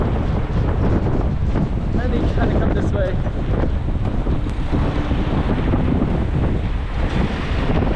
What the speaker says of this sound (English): Why is it suddenly so windy like that?